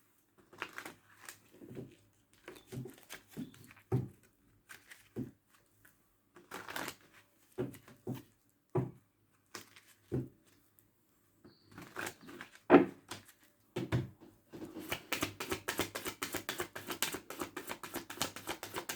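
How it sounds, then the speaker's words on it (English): Tarot cards being handled and shuffled: scattered soft flicks and taps at first, then a quick riffling burst of rapid card slaps near the end, close and quiet with no talk. "Let's give you a shuffle."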